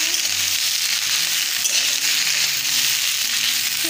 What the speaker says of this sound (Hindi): यहीं पर हम भिंडी डाल देंगे। भिंडी को चला लेते हैं